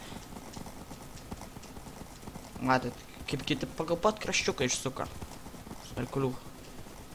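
Rapid clip-clop of galloping horse hooves in a Minecraft minigame, in bursts, with someone talking over them throughout.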